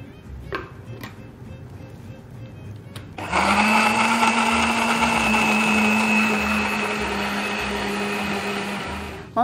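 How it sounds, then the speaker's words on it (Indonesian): A kitchen blender whirs loudly and steadily at close range, puréeing kuini mango and chili with a little water, starting abruptly after a few light knocks and clicks. "ini buah kuini sama cabainya udah di blender halus seperti ini"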